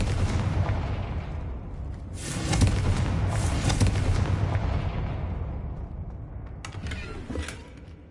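Confringo blasting spell going off in the video game Hogwarts Legacy, a loud rumbling explosive burst with rolling debris and creaking that swells midway and trails off, with a second smaller blast near the end.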